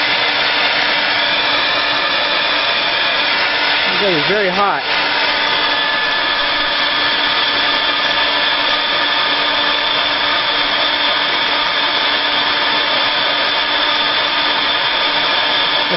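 A javaCOOL-CRC ULTRA semi-automatic coffee bean cooler and dechaffer runs its vacuum assembly, a loud, steady whirring drone like a hair dryer that holds constant throughout, with a brief spoken remark partway through.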